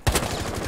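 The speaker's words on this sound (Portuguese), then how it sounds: "Quero ver controlar da SMG dela." An SMG fires in Rainbow Six Siege, starting with a sharp, punchy shot and running into a short, rapid burst.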